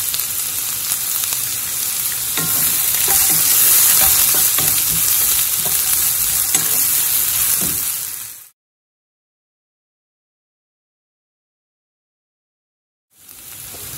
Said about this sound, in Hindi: ଏଟା ଟିକେ ଭାଜି ହବା ପାଇଁ ଜଲ୍ଦି ଆମେ ସେଥିରେ ଟିକେ ଲୁଣ ପକେଇ ଦବା।